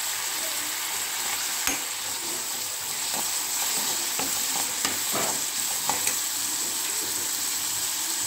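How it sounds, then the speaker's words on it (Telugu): Onions and green chillies with curry leaves frying in hot oil, a steady close sizzle broken by occasional sharp spoon clinks and scrapes against the pan. "ఇప్పుడు ఉల్లిపాయలు పచ్చిమిరపకాయలు వేద్దాము. కొద్దిగా వేగనిద్దామని వేసాను."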